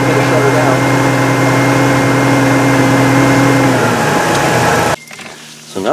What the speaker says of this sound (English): So you really can hear the exhaust note change when that mixture hits